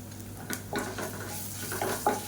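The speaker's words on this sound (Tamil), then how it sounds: "பூண்டு வந்து நல்லா அப்படியே ப்ரௌன் கலரில் வரணும் பூண்டு நல்லா வதங்கிடுச்சு" Garlic, red chilies, curry leaves and asafoetida frying in ghee, with a soft close sizzle and a few stirring scrapes and clinks of a spoon against the pan, no talking.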